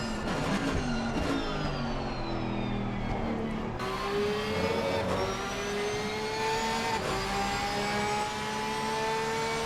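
A fast GT3 McLaren race car and other race cars at the BUNASTA summer race drone loudly, engines rising in pitch as they accelerate past under a constant circuit roar.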